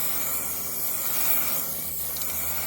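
An aerosol spray can lays primer onto a DIY aero part for a 3-litre-swapped BMW E36, giving one steady, close hiss that runs unbroken for nearly three seconds.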